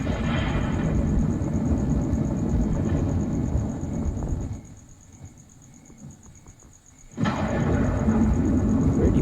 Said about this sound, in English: we're going to build a thunder and lightning machine just in time for Halloween